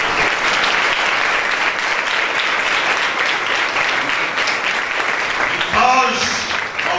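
A church congregation applauds during a Good Friday sermon in Urdu, a loud, steady wall of clapping that holds for several seconds before a voice briefly cuts through near the end.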